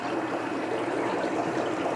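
Water trickles steadily into a plastic bag holding newly arrived Rio Negro altum angelfish during drip acclimation, a soft continuous dribbling with no voices.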